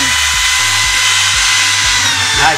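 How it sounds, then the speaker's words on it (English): An 8 mm masonry drill bit spinning at over 2000 RPM in a drill press, boring into spring steel: a steady loud whine with repeated low grinding pulses roughly every half second, running continuously with no talk. "we have this machine on 2000 plus RPM, and I'm going to drill with 8 mm"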